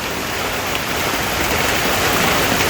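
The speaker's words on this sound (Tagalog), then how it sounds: "At inabutan tayo ng ulan sa Palaisdaan." Steady rain pours down over a fish pond, a dense, even hiss of drops that holds constant throughout with no voices.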